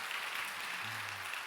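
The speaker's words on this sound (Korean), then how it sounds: "다시 한번 우리 백승기 준비위원장님을 통해서 크신 은혜 주신 하나님 앞에 영광의 박수 올려드리겠습니다." A church congregation at a Baptist pastors' conference claps together in a brief, steady burst of broadband applause, loud and continuous throughout.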